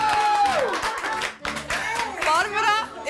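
A studio or hall crowd cheers and claps for the announced winner of a shooting contest on a Swiss rural women's cooking show. The lively whooping and clapping fill the clip, with excited voices mixed in.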